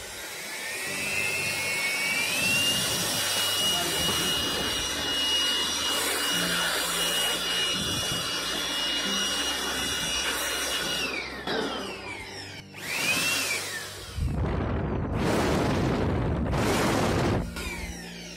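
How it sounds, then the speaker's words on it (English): A Jakmister 700W air blower roars loudly and steadily for about twelve seconds, cuts out briefly, then surges back in bursts as the voltage feeding it is raised. "Now I'm gonna slowly increase the voltage going to the blower."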